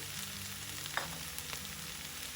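Amaranth leaves frying with ground chili powder in a pan, a steady, fairly quiet sizzle with a couple of faint clicks and stirring sounds, no talking.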